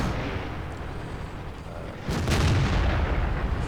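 Shell bouncing off the armour of a Chinese 112 heavy tank in World of Tanks, a steady low engine rumble broken about halfway by a sudden loud metallic boom and a sustained rumbling crash.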